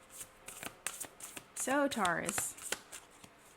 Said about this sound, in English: let's pull some cards